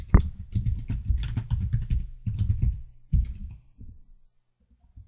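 Comments being typed on a computer keyboard produce a rapid, close run of clicky key taps in uneven bursts, with a brief pause near the middle, then a few slower taps fading into quiet near the end.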